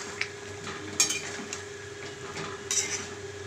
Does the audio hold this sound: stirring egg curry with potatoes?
yes